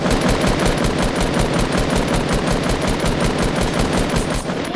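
Rapid, continuous gunfire in a first-person shooter video game, a steady run of loud, close shots with no pause over several seconds.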